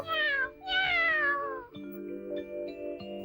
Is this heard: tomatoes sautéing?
no